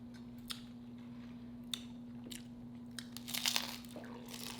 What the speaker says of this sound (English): that crunch sounds amazing